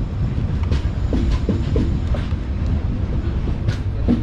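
The Kannur to Yesvantpur Express runs steadily, heard from inside a sleeper coach: a constant loud rumble with scattered clicks of wheels over rail joints and no voices.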